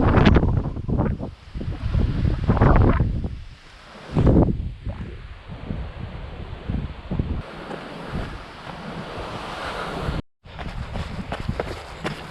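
Strong northerly wind buffets the microphone on a hillside trail run near Wellington, New Zealand, as heavy, gusty roaring that surges and eases across the stretch, with a brief dropout near the end.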